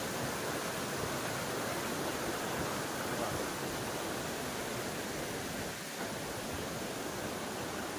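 Dudhsagar Waterfall in Goa roaring steadily as a dense, continuous wash of rushing water, close and unbroken, with no voices.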